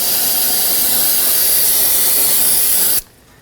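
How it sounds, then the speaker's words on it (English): A loud, steady spray of brake cleaner hisses close by for about three seconds while cleaning around a front brake hose on a 2013-2019 Nissan Sentra, then cuts off abruptly into quiet. "get some brake cleaner, spray the area down"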